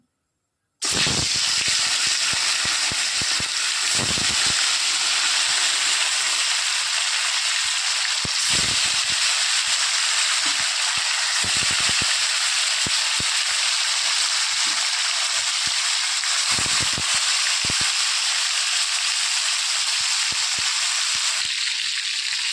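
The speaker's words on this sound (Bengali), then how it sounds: "তেল ভালো মতো গরম হয়ে গেছে, এবার এক এক করে মাছগুলো ভেজে নেব।" Silver carp pieces frying in hot oil give a loud, steady, dense sizzle that starts abruptly after a brief silence and holds for the rest of the clip, with a few faint clicks and no voices.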